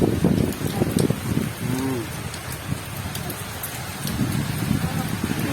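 Storm rain breaking after intense heat patters down outdoors, a rough steady wash beneath people talking close by.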